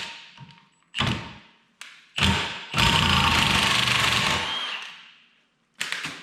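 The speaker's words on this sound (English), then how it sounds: "So we're gonna untighten pulley nut." A hand tool loosens a pulley nut in a series of separate knocks and thuds, then a longer rattling buzz of a few seconds, with a final short clatter after a pause.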